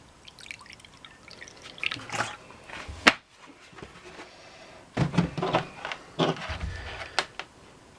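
Distilled white vinegar at 5% acidity is poured into a container in short splashing bursts, with a pause midway, fairly close and moderately loud.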